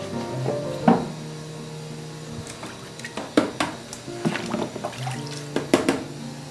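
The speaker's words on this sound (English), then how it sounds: "I also like to hose down the mesh screen with fresh water to make sure that it's nice and clean." Fresh water from a hose rinsing a mesh screen used for veliger care, with running splashes, drips and sharp knocks against the screen, close and intermittent.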